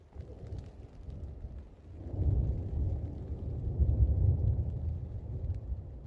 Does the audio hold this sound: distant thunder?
yes